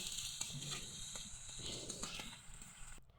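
A frying chicken and garlic paste mixture hisses and sizzles quietly after a splash of water, with a soft steady crackle and a few sharper pops before it cuts off.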